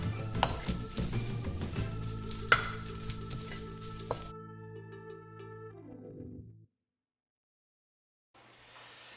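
Soybean sheets sizzle in chili oil in a hot wok, a steady close frying hiss with clinks and scrapes of a utensil stirring against metal, fading out partway with a brief quiet gap before faint sizzling returns.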